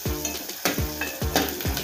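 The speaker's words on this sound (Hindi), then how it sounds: "आधा चम्मच हम हींग डालेंगे, अच्छे से फ्राई होने देंगे।" Asafoetida frying in hot oil, a close sizzle broken by regular metallic stirring scrapes against the pan, about four strokes in under two seconds.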